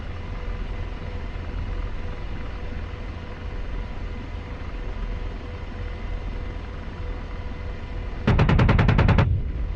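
An AH-64 Apache's chain gun in the DCS combat flight simulator firing at insurgents: one short, loud burst of rapid rattling shots near the end, over a steady droning engine and rotor background.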